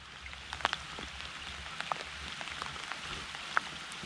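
Steady rain falls over a river during a fishing trip on the Daugava, a soft continuous patter with scattered louder drops close by, no voices.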